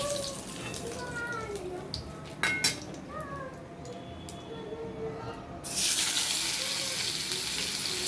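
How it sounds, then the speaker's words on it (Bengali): Paneer cubes frying in a pan give a steady, close sizzling hiss that runs throughout and grows louder near the end, with a few faint background sounds. "আর যে পনিরগুলো ছিল একটু ভেজে নিলাম।"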